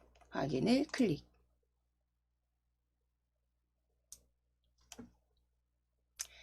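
A voice speaks briefly, followed by silence and then a few sparse, sharp mouse clicks on a computer while working in Excel. The clicks are isolated, quiet and close.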